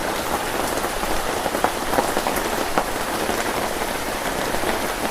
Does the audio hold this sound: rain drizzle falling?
yes